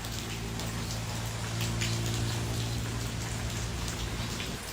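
Gentle drizzle patters steadily over a garden, a dense wash of fine drops with occasional sharper taps, close and constant, over a low steady hum.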